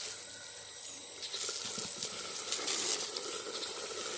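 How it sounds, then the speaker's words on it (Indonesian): Water is poured over coconut bonsai seedlings in soil, a steady close hiss and splatter that grows louder midway and keeps running without speech. "Kita siram lagi."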